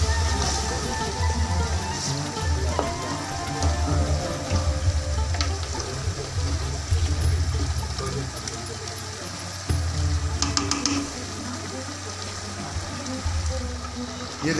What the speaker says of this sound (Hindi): ये देखें कीमे की अच्छी तरीके से मैंने भुनाई की है।